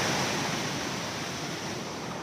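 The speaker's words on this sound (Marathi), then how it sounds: "माझ्या मागे बघता तुम्ही वॉटरफॉल" Rogewadi waterfall in the Konkan region: a loud, steady, close wash of rushing water fills the whole moment without a break, with some wind noise and no voices.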